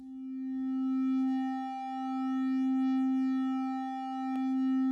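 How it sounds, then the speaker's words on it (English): An Omnisphere synth tone in unison mode, a second voice slightly detuned against the original to give a light chorusing shimmer: a steady sustained note with gentle slow swells in level, alone with no talk. "it's obvious that a second voice is generated and slightly detuned, creating a minimal chorusing effect"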